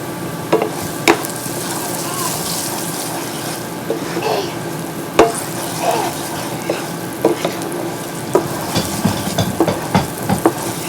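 Onions with curry powder and allspice being stirred in a pan: a gentle sizzle beneath repeated scraping and tapping of a utensil against the pan, close and fairly loud, with scattered clinks.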